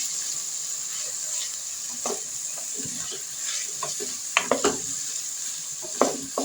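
Eggplant pieces stir-fried in a hot pan give a steady sizzle, with several sharp scrapes and clacks of the stirring utensil near the end.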